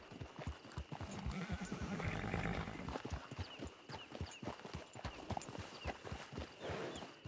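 Horse hooves clip-clop steadily at a walking pace, approaching a camp, with a whinny partway through and a rhythmic, fairly close beat of steps over soft background noise.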